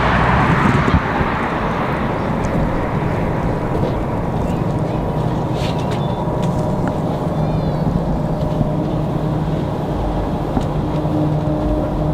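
A Boeing 737 airliner at Raleigh Durham airport fills the air with a steady, broad jet roar, a continuous loud rumble with a faint high whine above it, lasting throughout with no talk.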